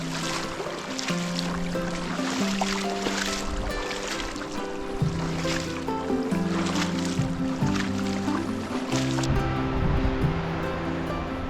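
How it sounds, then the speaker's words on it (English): A mountain creek runs straight down a wilderness hiking trail in Idaho, a continuous rushing, splashing wash of water heard up close, with steady droning tones layered over it. "This particular creek is literally running straight down"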